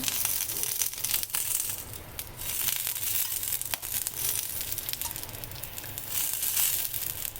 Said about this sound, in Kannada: ಫ್ರೈ ಮಾಡ್ತಾ ಸ್ವಲ್ಪ ಚಟ ಚಟ ಅನ್ನತ್ತೆ